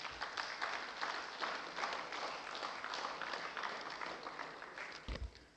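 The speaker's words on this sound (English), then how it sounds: "Please clap for him." An auditorium audience at an annual general meeting applauds with a sustained, even patter of many hands that fades slightly before a thump and a short voice at the close.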